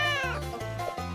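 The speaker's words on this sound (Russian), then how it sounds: "Это же котенок Валентин." A kitten meows in a quick string of three or four high, drawn-out cries, close and clear with no talking around them.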